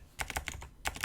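Quick keystrokes on a computer keyboard, a short burst of about seven close, crisp clicks in an irregular typing rhythm.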